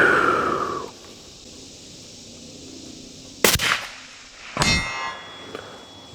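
A 7mm Remington Magnum rifle firing a 150 grain bullet at a steel target 300 yards away: two sharp, loud cracks about a second apart, the second one leaving a bright metallic ring.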